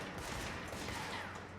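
Weapon fire in the video game Control, a dense, continuous burst of rapid shots filling the whole moment, loud and close with no pauses.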